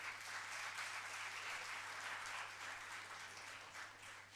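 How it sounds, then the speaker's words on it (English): At a youth parliament event in Hyderabad, an audience gives the jury panel a dense, sustained round of applause that sounds distant and washy and fades slightly toward the end. "A huge round of applause to our jury panel."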